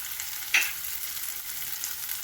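Fish pieces go into hot oil alongside tofu in a pan, giving a steady soft crackling sizzle with one brief louder splash of spattering at the start, no voices.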